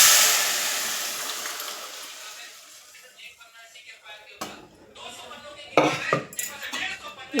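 Dal is stirred into vegetable sambar in a pot, a soft wash of bubbling fading into scattered clinks and scrapes of a ladle against metal, close by, with brief bursts of knocking near the end.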